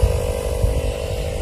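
A steady droning hum from an air pump filling an RV tire, running continuously and evenly throughout at a moderate, close level without any speech over it.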